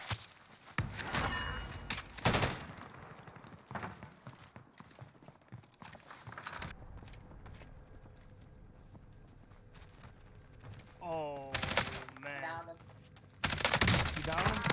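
Rapid gunfire bursts in Call of Duty Cold War Warzone with an XM4 rifle: sharp, loud volleys come in several clusters, the heaviest near the end, while players talk over the shooting.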